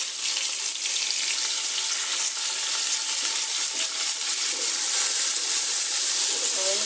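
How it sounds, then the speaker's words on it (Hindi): Chopped tomatoes fry in a pan of oil and whole spices for chicken biryani, giving a steady, even sizzle with a hissing, watery texture and no talking. "और इनको भी 2-3 मिनट के लिए फ्राई करना है।"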